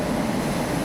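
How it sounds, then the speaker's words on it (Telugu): Steady broadband rumble of a train pulling into Visakhapatnam station, the 22203 Secunderabad Duronto Express, a continuous low roar with no distinct clanks, heard alone without voices. "ట్రైన్ అయితే వచ్చింది"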